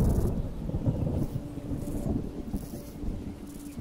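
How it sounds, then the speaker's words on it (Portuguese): Thunder rumbles through an animated scene, a deep rolling boom that stays loud and steady across the whole stretch, with no voices over it. "Nessa cena, ele arranca uma flor e a gente pode ouvir um trovão tocando na hora que ele faz isso."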